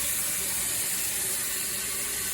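Water poured in while making coffee: a steady hissing, rushing stream, close and constant for the whole stretch, with no talking.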